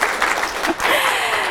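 Applause breaks out from a seminar audience, a steady wash of many hands clapping through the whole brief moment, fairly close and moderately loud.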